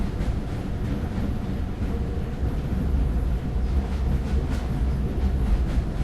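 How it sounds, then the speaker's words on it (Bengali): A train rolls past close by, a steady, heavy rumble of wheels and carriages filling the whole stretch without a break. "ভাই সামনে আবার ট্রেন এলো"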